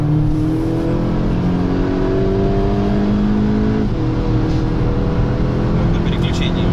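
Skoda Octavia A7 1.8T accelerating hard in a race, its engine a loud, steady drone with rising tones that briefly dip around a gear change, close and continuous throughout.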